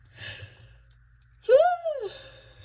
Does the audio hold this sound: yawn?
yes